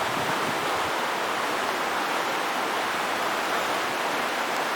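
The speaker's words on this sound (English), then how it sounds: "there's this flood coming down the canyon" Flash flood torrent surging down a river canyon, a loud, steady broadband roar of rushing water filling the whole stretch with no letup and no voices.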